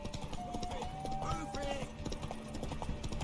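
Horse hooves gallop in a steady rapid clip-clop during a race in The Witcher 3, heard close beneath game music and character voices.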